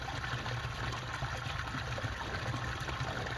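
Clean water runs steadily through a freshly cleared drain pipe from a pond, a continuous close trickling, gushing flow with an even level and no voices.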